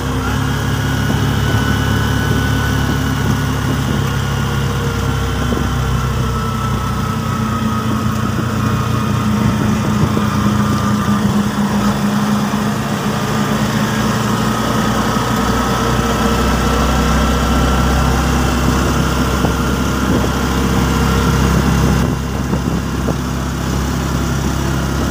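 A motorcycle engine runs steadily throughout, a constant loud motor drone with a low rumble and no pauses.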